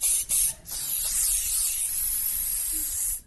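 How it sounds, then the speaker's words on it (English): A can of cayenne pepper spray discharges in a long, steady, close hiss of a few seconds, with two short bursts at the start before the continuous spray. "my cayenne pepper spray can be enjoyed not just during a late-night attack"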